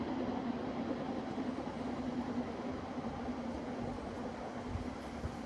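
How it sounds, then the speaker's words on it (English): A train rumbles steadily nearby, a continuous low mechanical roar with a faint tonal hum, filling the whole stretch without a break. "oh my God, the train's just up there"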